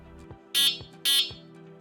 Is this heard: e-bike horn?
yes